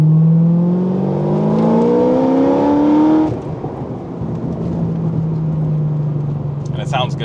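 A Chevrolet Corvette C6 ZR1 engine revs and accelerates in a rising, loud whine that drops off abruptly, then settles into a steady drone while a person talks over it.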